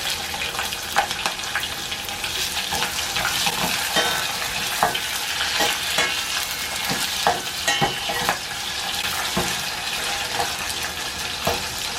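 Onions frying in a hot pan for a red spinach sambar, with a steady dense sizzle and scattered crackles and stirring clicks running evenly throughout, loud and close.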